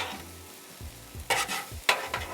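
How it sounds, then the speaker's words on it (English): Vegetables for fried rice stir-fry on a Blackstone griddle, a close sizzle broken by a few quick scraping tosses of a spatula against the metal surface, with no voices. "Toss everything up. Our veggies are cooking down nicely."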